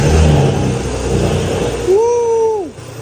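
An Audi B9 S5 with a Stage 2 full-bolt-on build and fresh 5W40 oil fires up for its first start, a loud rumbling catch followed by a rising, sustained rev that drops back off at the end.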